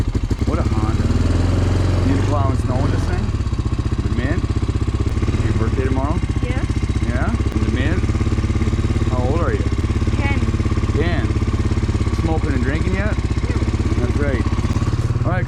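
An Arctic Cat snowmobile engine idles steadily through a cold-start warm-up in deep snow, a continuous low throb with a clear rhythmic pulse running throughout, while voices talk over it.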